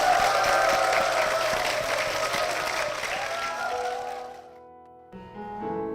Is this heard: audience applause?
yes